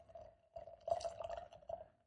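Imperial stout beer poured into a glass, with a few quiet splashing and gurgling bursts over a faint steady hum, close and brief.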